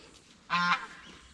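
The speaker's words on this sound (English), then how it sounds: "There's the geese, some of the ducks." A single goose on a hobby farm in fall gives one short, clear honk at moderate distance over a quiet outdoor background.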